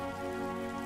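Rain falls in a cartoon story scene, a soft steady patter heard alone and fairly faint.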